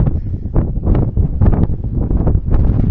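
Strong wind buffets the microphone in loud, continuous low rumbling gusts on the White Rim Trail in Canyonlands, with no voices.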